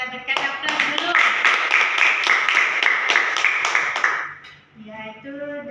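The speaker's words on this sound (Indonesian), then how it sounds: "Bagus sekali pendapatnya, kita berikan aplaus dulu" Small group clapping hands together during a group counseling session, a steady patter of claps for about four seconds that fades, followed by a voice speaking.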